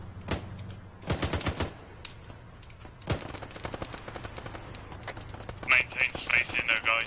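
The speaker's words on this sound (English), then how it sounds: "Shots to the left." Gunfire in the Arma 3 military video game during a vehicle convoy mission: quick bursts of automatic shots crackle at moderate distance, followed by several sharper near reports, while players talk over radio.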